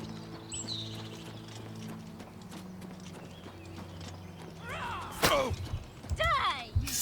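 Horse hooves clip-clop in Oblivion Remastered, a steady run of soft clopping under low game music, then a few louder, nearer thuds and a sharp impact near the end, with speech-like sounds mixed in.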